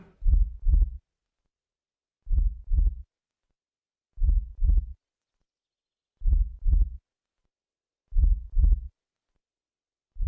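A slow, steady heartbeat thumps in clear double beats, lub-dub, repeating about every two seconds, deep and isolated against silence.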